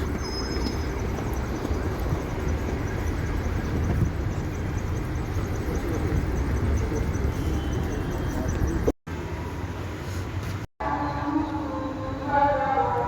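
City street traffic rumbles in a dense, continuous wash of low engine and road noise, cut by two brief dropouts near the end as faint voices and higher tones come through.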